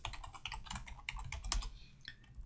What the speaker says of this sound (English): So here I'm typing butane and tab completing it.